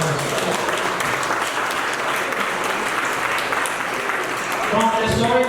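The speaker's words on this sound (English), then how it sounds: "let's give them a round of applause" An audience at the AJAPO 2019 dinner and fundraiser gives a sustained round of applause, loud and even throughout, with a voice starting to speak as the clapping tails off at the end.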